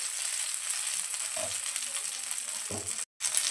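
Bangda mackerel coated in rava fries in oil over a low gas flame, a steady close hiss of sizzling with a couple of soft clinks and a brief break near the end.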